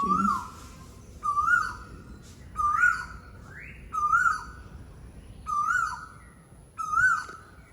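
A bird calls repeatedly in a quiet setting, about six similar hooting whistles spaced roughly a second apart, clear and fairly close.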